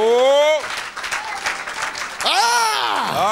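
A church congregation claps during a Sunday worship service. Sustained applause runs through the whole moment, mixed with loud shouted and sung voices rising over it.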